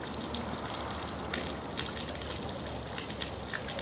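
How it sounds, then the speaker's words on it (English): Water from an evaporative cooler's tank drains steadily into a roof gutter, a continuous rushing, trickling flow heard close and moderately quiet, with no talk. "all the water is going to neatly drain into the gutter instead of draining"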